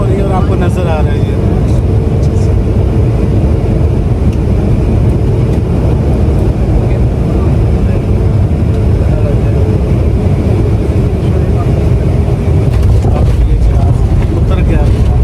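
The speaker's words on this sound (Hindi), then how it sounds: "अभी ये एयरपोर्ट से ये लैंडिंग हो रही है" Passenger jet landing at an airport on a flight from Pakistan to Kazakhstan, heard from inside the cabin as a loud, steady engine and air roar that fills the whole stretch.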